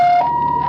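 An ambulance siren responding to a drowning at a river in Jianshi, Hsinchu: a loud, steady electronic tone that shifts pitch once partway through, heard alone in a brief burst.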